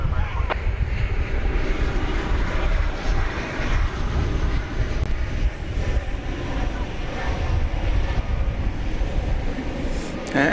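An American Airlines jet lands on runway 18 right at DFW airport. Its engines give a loud, broad, continuous roar that holds steady throughout and is heard from a distance outdoors.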